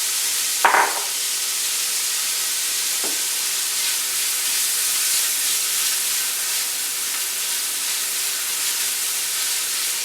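Chopped yellow onion sautéing in a soup pot, a soft continuous sizzle with a faint hiss, plus a couple of brief knocks from a utensil early on.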